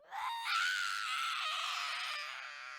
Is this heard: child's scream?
yes